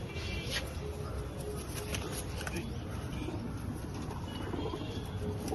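Pigeons, including a hen, coo quietly in a pigeon-keeping setting while someone talks nearby, their low murmurs running continuously under his voice.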